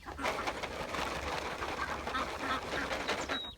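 Ducks quacking as they gather to be fed Cheerios, a busy, continuous chorus of close quacks with some cooing birds mixed in, no talking.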